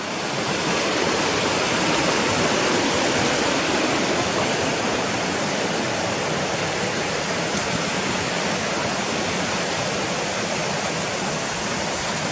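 Rushing water of Gunnerside Gill, a fast stream, pours in a steady broadband roar that stays loud and close throughout with no voices.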